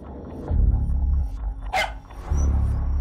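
A single dog bark from a movie scene cuts in sharply over a low rumbling background, brief and fairly close.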